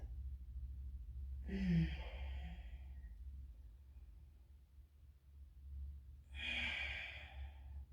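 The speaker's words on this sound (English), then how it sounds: "Inhale, exhale, inhale, exhale." Two slow, deep breaths during a yoga session, each a soft drawn-out rush of air separated by a quiet pause, close and gentle with no talking.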